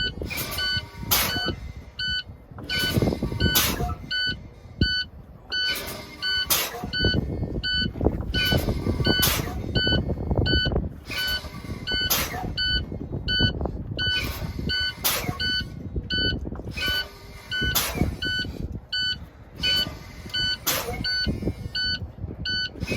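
A repeated electronic low air pressure warning beep sounds in a steady rhythm inside a truck, mixed with clicks and air hiss, with no talking.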